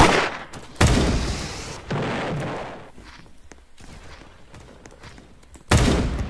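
Heavy gunfire and explosive booms from a video game raid, a few loud close bursts separated by quieter rumbling stretches with faint impacts.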